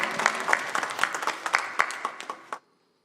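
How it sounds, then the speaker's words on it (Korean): A church congregation claps in praise during a Sunday worship service, a dense burst of applause that runs steadily for about two and a half seconds, then cuts off abruptly into silence. "우리 구주 예수님께 영광의 박수 올리겠습니다."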